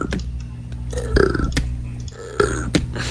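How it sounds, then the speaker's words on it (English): Several short burps from a Minecraft game character come in quick succession, each a clipped, fairly loud gulp standing alone with a faint game background between them. "Man, 3 burps in a row?"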